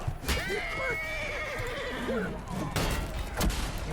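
A horse in Chivalry 2 lets out a long, wavering whinny over clattering hooves and battle noise, followed by sharp impacts.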